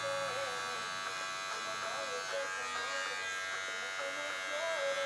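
Steady, close buzz of an electric hair clipper cutting hair at a barbershop while shaping a square or rounded nape, its motor pitch wavering slightly as it moves, with a person speaking over it.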